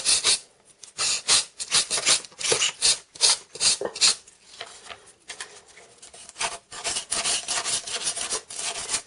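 A porous sanding stick rubs back and forth across a model terrain piece in quick rasping strokes, close and crisp, with brief pauses between bursts.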